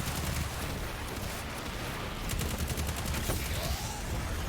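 Enemy gunfire in a Destiny 2 master Lost Sector, a continuous noisy barrage of rapid shots with a steady crackling texture that stays dense throughout, fairly faint in the mix.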